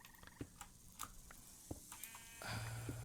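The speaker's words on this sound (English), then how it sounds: "Don't do it, little tiny sheep." A small sheep bleats in Minecraft, a few short blocky game-sound calls set among other faint mob noises, with a louder sustained bleat near the end.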